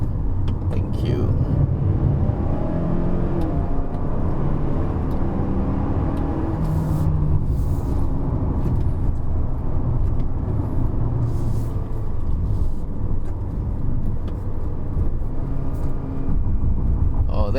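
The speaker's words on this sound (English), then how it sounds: "The gearbox shifts up pretty easily, even though I'm in sport mode." A 2019 Mazda CX-5 2.5L Turbo AWD in sport mode climbs the Genting hill road, its engine and road rumble droning steadily inside the cabin while someone talks over it.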